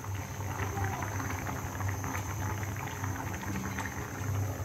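A pot of curry simmering, finished with coriander leaves, giving a continuous dense bubbling boil with a low hum underneath, steady and close throughout, no voices.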